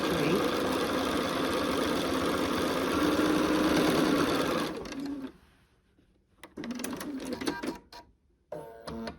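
Sewing machine running steadily and close while stitching three southwest blanket quilt blocks together, a dense mechanical hum for about five seconds, then stopping, followed by scattered handling clicks and rustles.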